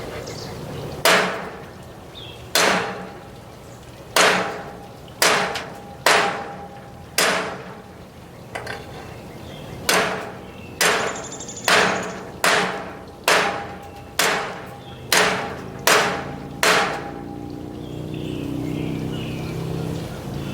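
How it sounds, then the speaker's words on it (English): A wakizashi and a leaf blade sword strike concrete in a series of about sixteen sharp, loud metallic clanks with brief ringing decays, spaced irregularly a second or so apart. "I'm going to strike these two new blades against concrete to see how they actually hold up."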